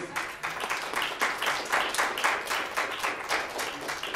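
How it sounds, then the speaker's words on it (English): An audience gives a warm round of applause for a professor after a talk, continuous clustered clapping with a gently pulsing rhythm throughout. "A warm round of applause for Professor Peace"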